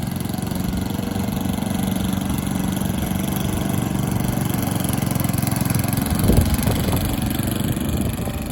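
A lawn mower engine drones steadily and loudly nearby, with a slight surge and rattle toward the end and no voices.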